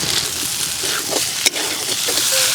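Fried soya chunks and fried potatoes hit a pan of browned masala for a soya chunk curry, giving a steady close sizzle with a brief sharp spike partway through.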